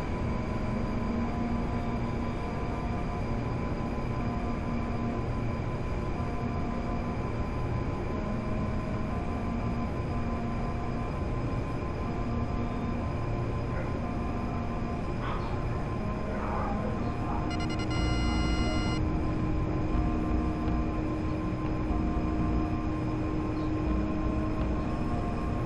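A train rumbling past in GTA Online, a long, steady, loud mechanical drone with a faint tonal hum and a brief higher whine near the end, with no clear talk over it.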